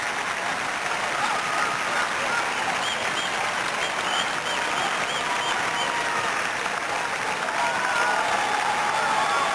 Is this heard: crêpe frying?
no